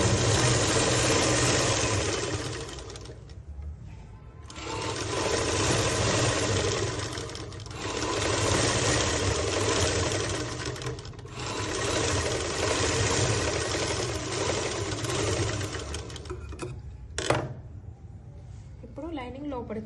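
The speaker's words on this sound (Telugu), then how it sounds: "ఇట్లా తీసేసి లైనింగ్ పైన స్టిఫ్గా కుట్టు వేసుకోవాలి." Sewing machine stitching the lining of a frock, running in long steady bursts of motor whir and needle chatter with short pauses between runs, close and fairly loud.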